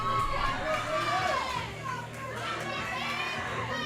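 Crowd at a collegiate powerlifting championship, a steady murmur of many voices with scattered shouts and calls running the whole time, moderately loud and close.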